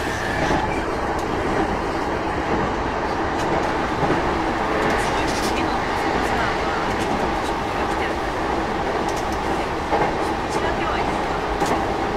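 Steady rumble of a Keihin-Tohoku Line commuter train in motion, heard from inside the carriage, with continuous broadband rolling noise and faint track clatter throughout, loud and close.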